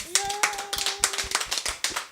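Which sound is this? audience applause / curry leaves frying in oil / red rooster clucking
audience applause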